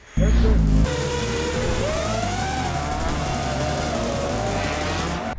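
A drift car at Mobara Twin Circuit in Tokyo slides with a long, wavering tire squeal over a loud engine roar after a brief low rumble at the start, with talk partly mixed in.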